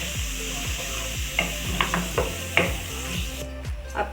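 Boiled chickpeas and their cooking water go into a masala frying in a pan, with a steady sizzle and spoon scraping in a series of rhythmic stirring strokes, close and moderately loud.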